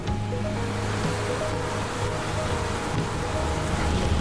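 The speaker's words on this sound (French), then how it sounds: "Nous voyons un enfant qui prend une douche, profitant de l'eau de pluie." Rainwater pouring steadily as a child showers under it outdoors in Burundi, a dense, unbroken rushing splash with no pauses and no voices.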